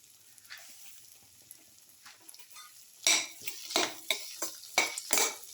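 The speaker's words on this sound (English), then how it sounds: "Thoroughly salt and mix." A spoon scrapes and knocks against a bowl as an okra, potato and yogurt casserole is stirred with salt, starting softly and then turning into louder rhythmic strokes in the second half, with no talking.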